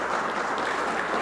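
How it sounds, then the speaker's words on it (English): Conference audience giving panelists a round of applause after a privacy policy discussion, a brief dense burst of clapping heard on its own. "Let's give our panelists"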